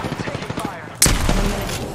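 Gunfire in Apex Legends, a rapid rattling burst of shots followed by a sudden loud blast and sustained crackle, with a voice talking over it at the start.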